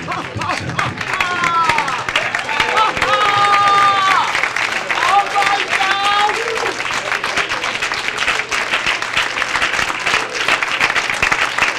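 Loud, sustained applause from an audience at a community event follows a sung performance, with dense clapping and crowd cheers running throughout, and a few tonal vocal sounds rising over it early on.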